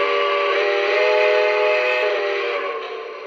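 Steady whistle from a Lionel Legacy Blue Comet Camelback model train, a sustained multi-tone chord held for about three seconds at close range, loud and alone, tapering slightly at the end.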